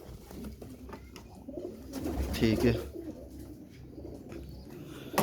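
Teddy breed pigeons, including a domed pair from Sialkot, coo softly near at hand, a low throaty burr swelling midway, with someone talking over them briefly.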